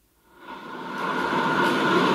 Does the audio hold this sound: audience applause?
no